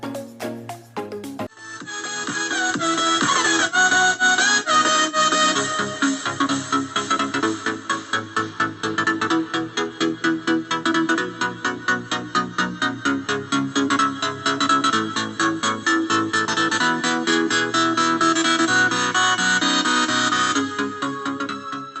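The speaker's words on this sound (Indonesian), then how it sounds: "Oke, dan itu adalah suara dari speaker ini ya," Music played through a cheap portable Bluetooth speaker with a microphone, loud and steady with a pulsing beat throughout after a brief start.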